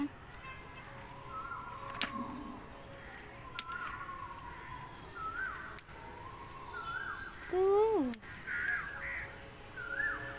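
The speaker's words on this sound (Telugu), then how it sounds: "అదిగోండి కోకిల" An Asian koel calls in a rain-soaked vegetable garden with a clear rising whistled note near the end, among repeated crow caws and faint background chatter at moderate distance.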